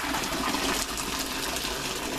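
Boiled potatoes drained in a kitchen sink, their water pouring out in a steady, soft gushing rush that carries on for the whole moment without talk.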